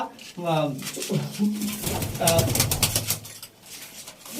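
Flying pigeons in a loft set-up coo in several close, low bursts, mixed with someone talking over them and some clattering noises.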